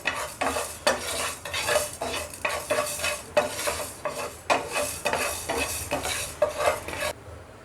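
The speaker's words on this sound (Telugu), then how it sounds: "కొంచెం జీలకర్ర, యాడ్ చేసి ఫ్రై చేసుకోవాలి." Cumin seeds fry in a pan while a metal spoon stirs them in quick, regular strokes, each one clinking and scraping close by over a light sizzle before stopping abruptly.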